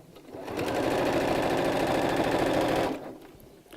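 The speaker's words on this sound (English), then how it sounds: "and we'll start to sew." Sewing machine running a skirt seam at a 1 cm (½ inch) seam allowance, loud and close, with one continuous fast burst of stitching that stops abruptly near the end.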